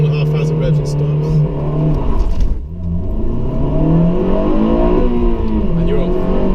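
A 2007 Honda Civic Type R FN2 GT engine revs loud and close, holding high in first gear for a launch-control start, then dips and climbs again in a rising, whirring howl.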